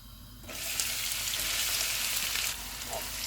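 Onions drop into hot oil with whole spices for chicken biryani and burst into a loud, close, continuous sizzle that eases off slightly near the end.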